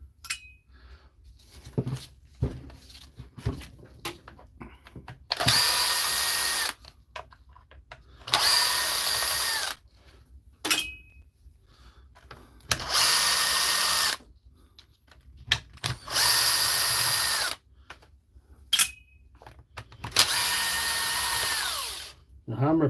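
A DeWalt hammer drill with a failed hammer plunger whirs in repeated bursts of a few seconds each, loud and close, separated by quiet gaps with light handling clicks.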